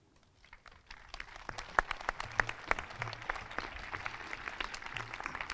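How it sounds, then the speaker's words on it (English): Applause at a high school graduation ceremony, starting soft and swelling into scattered, distinct claps from a moderate crowd, heard fairly close and steady without talk. "thank you for that applause"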